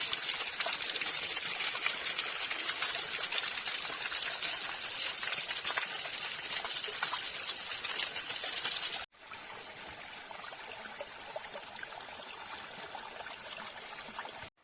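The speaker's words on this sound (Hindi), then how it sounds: "यहाँ पे भी एक गधेरा है और आपको पानी की आवाज सुनाई दे रही होगी" Water from a mountain stream (gadhera) runs steadily through a forest, a continuous broadband rush with a brief cut near nine seconds and no talking.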